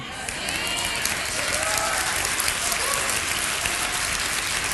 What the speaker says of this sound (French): Ils applaudissent pas comme ça pour moi